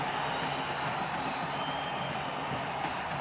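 At the Stade de Franceville, the football crowd roars for Gabon against Ivory Coast, a dense, steady wall of cheering and noise with no break, heard from within the stands.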